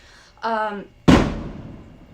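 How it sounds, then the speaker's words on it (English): A firework goes off in a yard with a single sharp, loud bang and a crackling tail that dies away over about a second, just after a brief voice is heard. "Fireworks! I live in America!"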